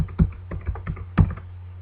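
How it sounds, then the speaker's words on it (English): Someone types an answer on a computer keyboard, close up, in a quick run of light key taps with a brief pause, then a few more strikes over a low background hum. "so I'm going to type that in."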